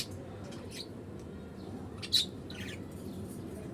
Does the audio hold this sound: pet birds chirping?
yes